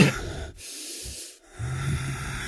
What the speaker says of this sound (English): with the only audio being heavy breathing